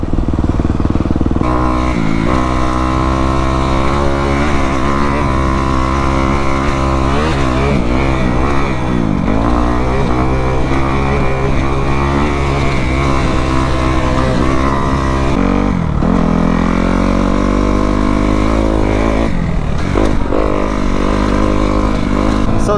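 A Kawasaki KX450F dirt bike engine runs loud and close throughout while being ridden, holding steady revs with repeated rises and dips in pitch as the throttle opens and closes.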